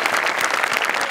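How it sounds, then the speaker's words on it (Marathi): A studio audience at a Marathi comedy show applauds, a short, steady burst of close clapping. "सगळ्यात आधी आमिर हडकर यांच्यासाठी जोरदार टाळ्या"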